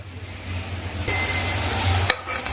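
Tamarind gojju simmering in a pan, a steady sizzling bubble with a low hum underneath, brief stirring scrapes and a sharp clink near the end.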